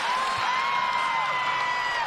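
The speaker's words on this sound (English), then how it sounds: "Good crowd, loud crowd." A large crowd at a state championship high school basketball game, Providence versus Albany, roars and cheers loudly and continuously, with a high whistle-like tone riding over the din.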